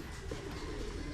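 Pigeons of a racing breed cooing nearby, a low soft murmuring coo under steady background noise.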